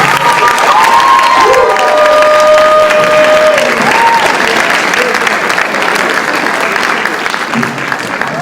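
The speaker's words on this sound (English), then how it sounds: "let's give the Wootens a big round of applause" Students at a school assembly give a big round of applause for the Wootens, loud, sustained clapping with cheers and shouts on top and a few brief tonal sounds early on.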